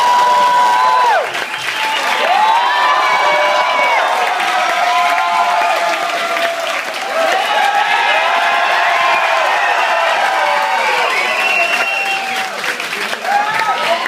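A comedy club audience applauds and cheers for comedians Kevin Heffernan and Steve Lemme, with steady clapping, whoops and shouts lasting throughout, loud and close, while a voice calls out over it at the start.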